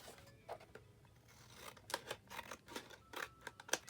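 Scissors snipping through paper while an envelope folio is being made: a run of close, crisp cuts, sparse at first and then quicker and louder, over a quiet room.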